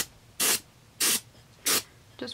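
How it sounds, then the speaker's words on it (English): Three short bursts of aerosol spray paint on a Nike Air Force 1 sneaker, each about a quarter second, evenly spaced and close, with a brief fourth hiss starting at the end. "I'm going to quickly spray the other one too."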